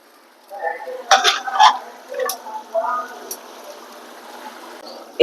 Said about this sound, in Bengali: প্রেশার কুকারের মাংসগুলো আমি এখানে আমার মশলার মধ্যে ট্রান্সফার করে দিব